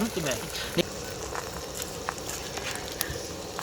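An egg omelette fries in a pan while egg fried rice is made, a soft steady sizzle with light crackles and a few clinks, under a talking voice.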